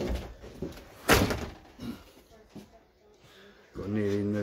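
A nearly new black composite front door on a houseboat converted from a North Sea trawler opens with one sharp knock and clunk near the start, followed by fainter handling sounds, while someone speaks nearby.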